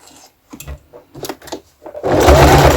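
A sewing machine stitches straight over pins, starting with a few short, halting bursts before settling into a loud, sustained run at close range.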